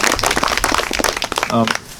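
Audience applause for a speaker at a talk, a fairly loud wash of many hands clapping, with a voice breaking in briefly near the end.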